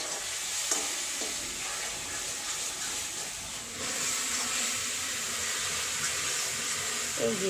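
Melted ghee sizzles steadily in a pan while being stirred, a continuous close hiss with faint scraping and a brief clink near the end, no talking.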